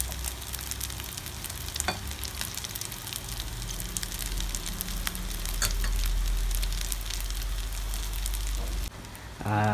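Leftover-rice cakes spread thin in a pan sizzle and crackle steadily in hot oil, a continuous close frying hiss with a brief clatter near the end.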